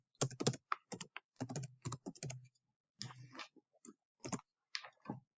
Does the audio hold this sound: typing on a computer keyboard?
yes